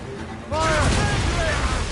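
Cannons aboard a ship open fire during a sea battle in Assassin's Creed Rogue, starting as a sudden heavy roar of blasts that rolls on and sustains, while a voice shouts over the din.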